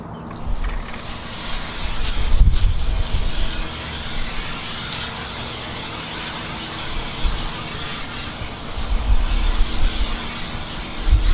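Steady broadband spray of water washing down a freshly sanded, restored car headlight, a continuous close hiss with a few louder bursts and faint mechanical clatter underneath.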